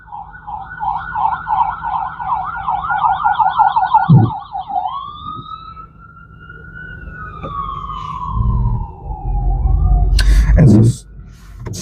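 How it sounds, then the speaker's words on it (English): An ambulance siren wails loudly, cycling through rapid yelps and then a long sweeping tone, with traffic noise rising near the end. "Ambulance."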